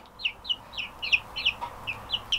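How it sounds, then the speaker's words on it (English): American Bresse chicks, a meat-bird breed, give a rapid series of about ten short, bright peeping clucks close by, evenly spaced over a quiet background hum. "These are American Bresse chicks."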